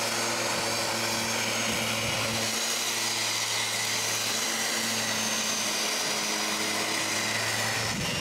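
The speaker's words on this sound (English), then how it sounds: "Now it's possible to begin sanding the patio." A power sander works steadily over wooden patio planks outdoors, giving a loud continuous motor drone with a low hum that runs unbroken throughout.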